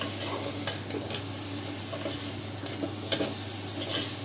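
Prawn masala mixture being stirred in a pan, a steady soft sizzle with a few spoon scrapes and clinks against the pan, close by and with no talking.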